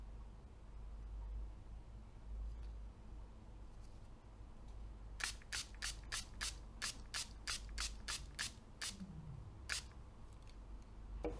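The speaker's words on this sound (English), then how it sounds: "And then I'm going to spray it on the actual filter itself." Blue dye liquid is sprayed onto a 3M respirator filter in a rapid series of about a dozen short, sharp hissing bursts, each close and crisp, following a quieter stretch of background noise.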